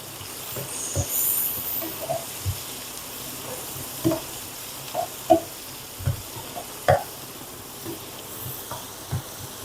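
Sliced large onions with salt sauté in a pan for soya chukka, a soft steady sizzle punctuated by scattered spoon stirs and scrapes, close and fairly quiet, with no talk.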